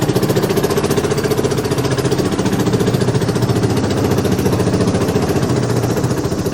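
A Honda Helix scooter engine runs under light throttle as the scooter pulls forward, a close, steady, rapidly pulsing chug that holds fairly even throughout.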